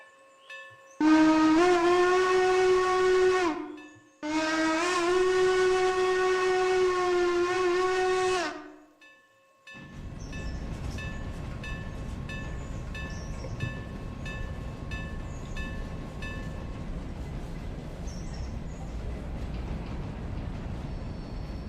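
A steam-style hooter on locomotive 475 in a model railroad video game gives two long, loud harmonic blasts, then the train runs on with a steady rumble and faint rhythmic clicking under a high tone.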